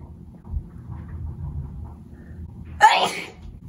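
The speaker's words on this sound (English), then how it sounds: "Oh my god, I gotta sneeze." A single sharp sneeze bursts out near the end after a few seconds of quiet room noise, close and loud.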